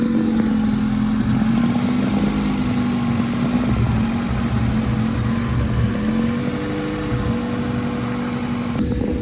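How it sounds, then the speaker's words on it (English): A 1999 Acura Integra engine runs after sitting for six months, a steady close idle with a smooth continuous hum and slight fluctuations in tone, heard alone without talk. "the car just started right up"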